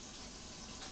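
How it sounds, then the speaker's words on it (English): Tap water runs in a steady, close rush into a sink while hands are washed, a brief continuous splash with no voices. "We'll wash our hands real quick."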